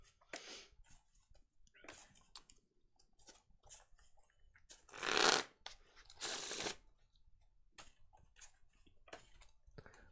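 Pokemon trading cards mashed together in a shuffle, giving soft rustling bursts between quiet gaps and two louder, denser riffs about a second long near the middle.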